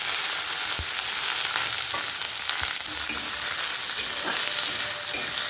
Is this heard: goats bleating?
no